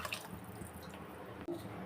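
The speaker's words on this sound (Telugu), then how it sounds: "ఇప్పుడు బాగా ఆ వాటర్ అయితే దీంట్లో పోస్తున్నాను" Soaked tamarind water is poured into tomato rasam in a home kitchen, giving a steady dripping, trickling liquid stream that runs almost continuously for about two seconds, close and fairly quiet.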